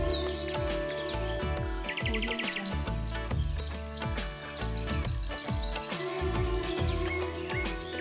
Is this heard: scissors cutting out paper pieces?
no